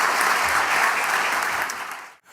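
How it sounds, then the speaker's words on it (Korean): Audience applause at a National Assembly policy forum on long-term care insurance, dense sustained clapping from a seated hall crowd that carries on loudly for about two seconds before cutting off abruptly. "큰 박수 부탁드리겠습니다."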